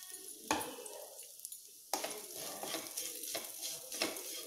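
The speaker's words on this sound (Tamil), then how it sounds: "தேங்காயை நிறமாறாமல் வறுத்து எடுத்துக்கணும்." Grated coconut roasts in a kadai with chana dal and curry leaves, sizzling softly while a spoon scrapes through it in several distinct strokes; nobody speaks.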